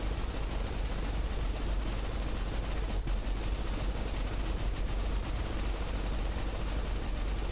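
In the shooter game Snowbreak: Containment Zone, a gun fires at a turret in a dense, continuous automatic burst. The rapid shots are loud and unbroken for several seconds.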